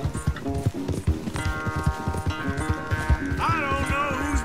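Rhythmic hoofbeats of a galloping horse in Red Dead Redemption, steady and close, layered with bright musical tones and game-like sound effects.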